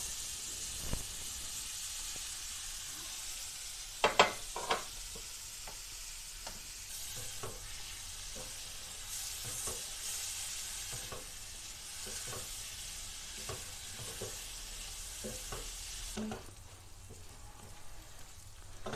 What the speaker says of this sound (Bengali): চিংড়ি মাছগুলো আবার লাল লাল করে ভেজে নেবো